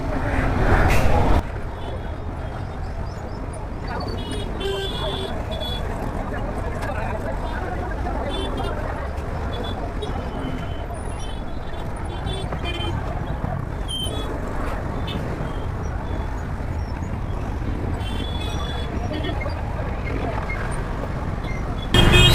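City road traffic, a continuous wash of car, bus and truck engines with general street hubbub, steady and moderately loud, heard while people talk nearby.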